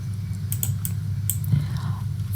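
Commands are typed on a computer keyboard into a network router console, with a handful of sharp, close key clicks spaced irregularly over a low steady hum.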